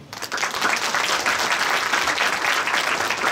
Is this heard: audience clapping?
yes